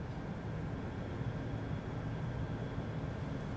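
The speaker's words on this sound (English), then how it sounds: "Engine ignition." Rocket engines igniting at the launch of China's Tianhe core module in April 2021, a steady broadband roar with a heavy low rumble, even and continuous, heard from a distance and fairly faint.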